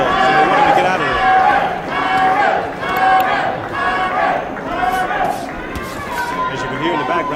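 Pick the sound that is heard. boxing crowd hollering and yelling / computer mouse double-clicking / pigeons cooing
boxing crowd hollering and yelling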